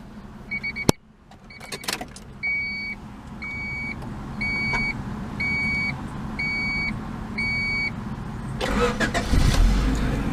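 A 1993 Honda Accord EX starts up: a door chime beeps in a steady repeating pattern, then the starter cranks briefly and the engine catches into a loud, close idle at the end.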